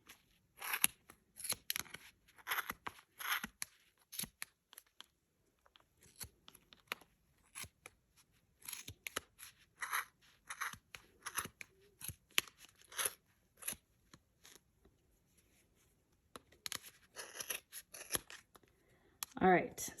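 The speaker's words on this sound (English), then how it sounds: "And keep cutting, making sure that this doesn't open up." Scissors snip repeatedly through yarn while a hat is knitted in the round, the close, crisp cuts coming in irregular bursts across the whole stretch, with a person talking quietly between them.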